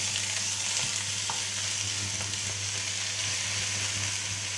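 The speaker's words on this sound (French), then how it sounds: "je vais ajouter mes carottes. Et je remue." Carrots fry in a pot for a turkey blanquette with a steady, dense sizzle, while a spoon stirs through them in occasional soft scrapes. The sound is continuous and close, with no voices.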